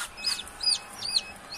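Thin, high peeps from newly hatched chicks repeat about four times in quick succession, close by, over a faint background hum of an incubator.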